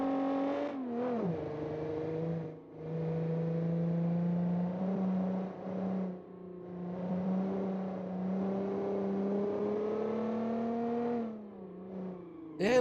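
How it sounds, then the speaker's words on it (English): A V6 car engine in the racing game BeamNG drones steadily and close, its pitch rising and dipping as the throttle is worked, with a brief lift-off near the start and again near the end. No one talks over it. "Like a nice V6 sounds nice and good here."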